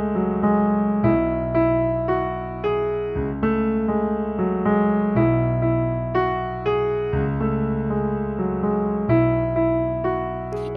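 Solo piano plays one bar of a song, steady repeated chords over a sustained bass, close and clear with no talking, about ten seconds of even phrasing.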